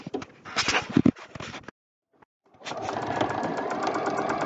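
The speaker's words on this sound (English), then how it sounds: "I'm going to sew all the way till I get to the end." A sewing machine stitches fabric for a medical face mask, running in a steady close whir for nearly two seconds, pausing briefly, then resuming in a continuous even hum to the end.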